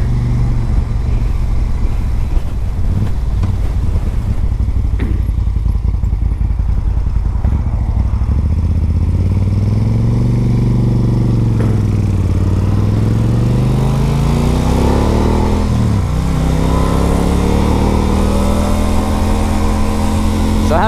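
A big Moto Guzzi motorcycle engine heard while riding, a loud continuous rumble with rising and falling pitch as it accelerates and shifts, over steady wind noise.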